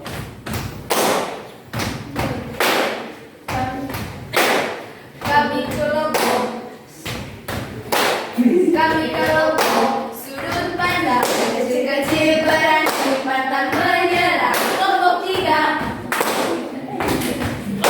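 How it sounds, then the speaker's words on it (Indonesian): Students in a classroom clap their chests and hands together in a rapid, loud, rhythmic sequence of thumps and claps, with voices chanting and talking over and between the beats. "Tepuk dada dan tanganmu"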